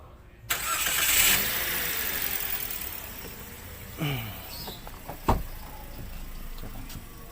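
A Toyota Calya or Daihatsu Sigra engine cranks and catches, then settles into a steady idle, loud and close, with a couple of brief knocks and clunks as the car is handled.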